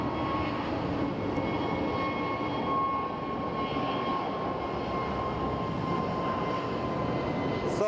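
American Airlines flight 692 airliner passing at Phoenix Sky Harbor Airport, heard as a steady, moderately distant jet roar with a faint whining tone, continuous for several seconds without voices.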